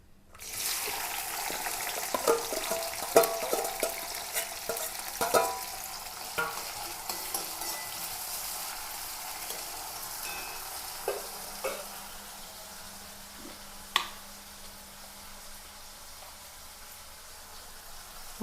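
Onion, garlic and green chilli fry in hot oil in a pan, a steady sizzle with scattered stirring clatters that fades slowly to a quieter simmer, heard up close with no talking.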